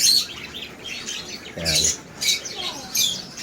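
Pet birds in a backyard aviary give short bursts of bright chirps and squawks, fairly close, over a steady busy background with occasional low handling noise.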